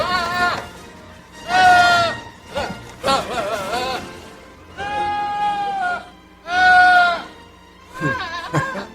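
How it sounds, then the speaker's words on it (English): Goats bleat in a melodic sequence that resembles the Star Wars theme, several long, wavering tonal cries separated by short pauses, loud and close. "Want to hear some goats that sound like the Star Wars theme?"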